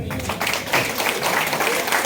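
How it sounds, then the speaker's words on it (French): An audience at a political gathering applauds, a dense even burst of clapping with voices mixed in for a couple of seconds. "Je demande que tout le monde applaudisse Gilles Ngom depuis Dakar."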